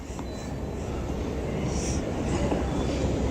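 A Baku metro train in Azerbaijan rumbles in a continuous, moderately loud roar, heard from inside the carriage.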